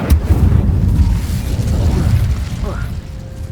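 Incendio fire spell cast in a Harry Potter video game, a loud burst of fiery whoosh and rumble with a sharp onset, sustained under an overlapping voice before fading out.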